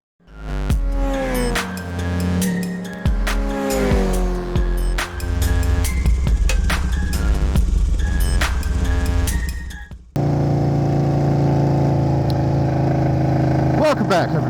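An Indian Scout Bobber motorcycle on a ride, its engine rising and falling through a few revs and gear changes, loud and close, before settling into a steadier cruising drone with wind noise.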